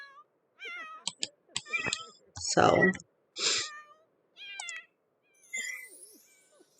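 A cat meows a few times in The Sims life-simulation game, short game-voiced calls mixed with soft chimes and broken up by a person talking over it.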